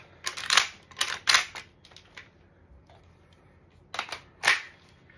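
Magazine changes on an M4-style airsoft gun with a URG-I setup: several sharp, close metallic clacks and snaps in quick bursts, a group early on and another pair near the end, with quiet gaps between and no talking.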